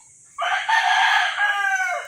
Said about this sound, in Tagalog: Marami dito, dami alagang manok.